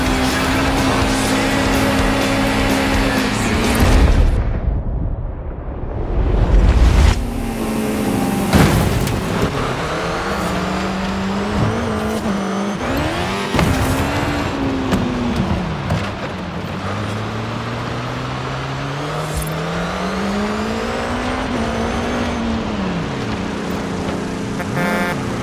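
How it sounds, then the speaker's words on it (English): Baja off-road racing in Forza Horizon 5, steady engine drone with gear-shift pitch sweeps, a loud burst of crash-like rumble near the start, then continuous revving and shifting engine tones to the end. "Now let's see how you handle some real Baja racing, my friend."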